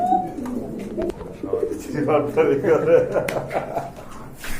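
Pigeons, including a satin pair in a pigeon collection offered for sale, coo softly and repeatedly nearby while someone talks over them.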